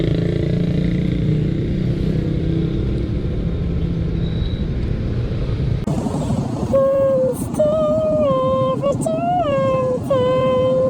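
A motorcycle engine warms up at idle with a steady low rumble for about six seconds. Then a voice and louder tonal sounds take over while the engine fades into the background.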